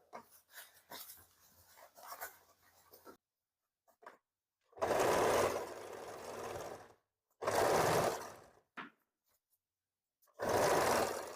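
A sewing machine stitches a baby frock in three loud, close bursts of a few seconds each, with quiet pauses and light handling rustle between them.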